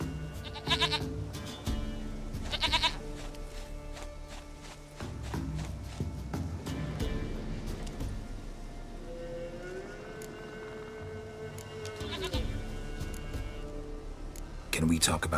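Several separate goat bleats break through game music and ambience, spaced unevenly, with loud calls near the start, a wavering tone in the middle and another bleat near the end.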